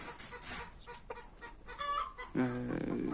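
Chickens cluck and call in short bursts at close range, with a louder stretch of squawking near the end over steady background noise.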